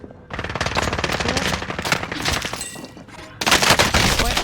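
Bursts of automatic gunfire in a tournament video game, rapid dense rattling volleys close and loud, overlapping and briefly thinning before a sharper barrage resumes.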